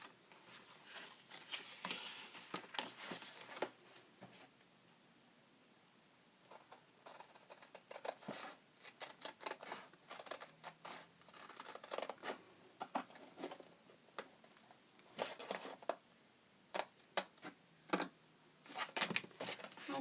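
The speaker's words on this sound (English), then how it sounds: "I might need to get my little tinier, sharper scissors just to get in that one little spot right there" Scissors cut paper for a Halloween decoration, producing quiet, irregular snips and crisp rustles in uneven bursts, close by but faint, with no talking.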